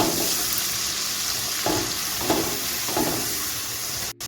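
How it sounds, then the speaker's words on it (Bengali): Spice paste with Kashmiri chilli powder and added water sizzles loudly and steadily in a pan for a paneer dish, with a few stirring scrapes partway through before the sound cuts out abruptly at the end. "এখন ভালো করে মশলাটা কষিয়ে নেব"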